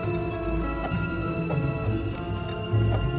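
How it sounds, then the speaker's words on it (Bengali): Steady, dense rain pours down continuously, with a constant hiss and occasional heavier drops, and a low tonal hum running underneath. "কাকা, বৃষ্টিটা তো কমারই নামই নিচ্ছে না, আরো বাড়বে নাকি?"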